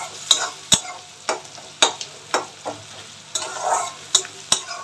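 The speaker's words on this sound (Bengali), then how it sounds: "পেঁয়াজটা একটু ভাজা ভাজা নরম নরম হয়ে এলে পরে মাছটা দেব।" Onions frying in a pan and stirred with a utensil, a steady close sizzle broken by repeated sharp scraping strokes at an uneven rhythm, with no talking.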